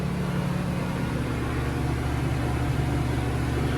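A Honda EU2000i generator's motor hums steadily while powering a washing machine, a continuous, even drone with no breaks across the clip.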